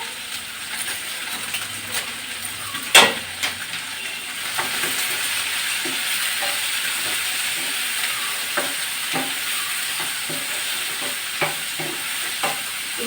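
Food sizzling in a pan with salt added, a gentle steady fry broken by a metallic clink and repeated scraping stirs of a spoon, close and without speech.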